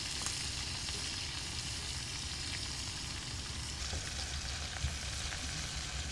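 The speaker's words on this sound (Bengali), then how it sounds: "একে তো ইলিশ মাছ তার উপরে সরিষার তেল দিয়ে ভাজি হচ্ছে" Hilsa fish fries in mustard oil, a dense, even sizzle and crackle that holds steady throughout, close and fairly quiet, with one small pop and no speech.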